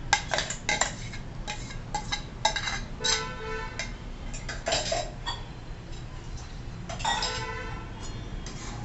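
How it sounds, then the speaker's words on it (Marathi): Spinach sautéed and stirred in a pan, heard mostly as repeated metallic clinks and scrapes of a spoon against the pan in irregular bursts, close up with a faint background hum. "आता पालक आपण चांगला परतवून घेऊ"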